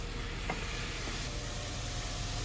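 Zucchini noodles frying in a pan make a loud, constant hiss and crackle, with a brief scrape of stirring, unbroken and close.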